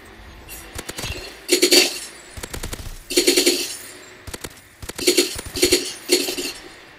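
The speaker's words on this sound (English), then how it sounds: "this is the firing range if you don't know what it is" Bursts of automatic gunfire on a firing range in Call of Duty Advanced Warfare, several sharp rapid volleys separated by short pauses, loud and close with no talk.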